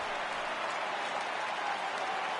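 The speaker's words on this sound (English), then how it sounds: "The crowd is ready to erupt as their guys get set to take the field." Broadband roar of a stadium crowd in an MLB The Show baseball game, White Sox at bat, a steady wash of cheering and clapping filling the whole moment without a break.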